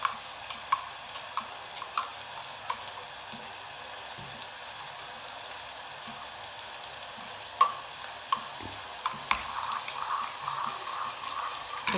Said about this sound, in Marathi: आणि ते ताक जरा व्यवस्थितरित्या हलवून घ्यायचं। डाळीचं पीठ त्याच्यात मिक्स करायचं चमच्यानेच